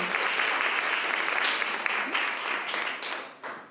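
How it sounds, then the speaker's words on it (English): A holiday mingle crowd applauds a speaker with sustained, dense clapping that holds steady, then tapers near the end. "She's a hard act to follow, so please, round of applause."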